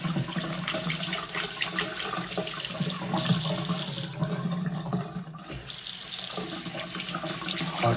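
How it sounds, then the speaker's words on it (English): A bathroom faucet runs steadily after the water supply is turned back on, a continuous close rushing hiss with a brief dip partway through. "Now all we need to do is turn back on the water."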